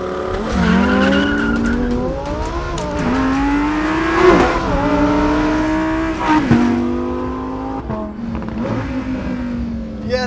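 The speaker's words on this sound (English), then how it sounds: "This is the first time I've experienced a Huracan hunting for traction" A 2021 Lamborghini Huracan STO launches on launch control, its engine revving hard and climbing through the gears while the tires squeal and chirp as they hunt for traction; loud and close, with no talk over it.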